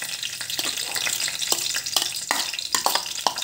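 Garlic frying in cooking oil for adobo, a steady close sizzle with bright crackling bursts and occasional scraping stir strokes throughout.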